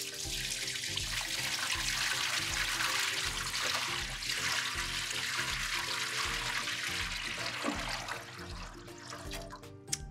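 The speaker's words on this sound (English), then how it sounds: "We're gonna add our water." Water pours steadily into a large bucket holding a rock for a small oil-spill demonstration, a continuous splashing, gurgling rush lasting about ten seconds and tapering slightly at the end, with no talk.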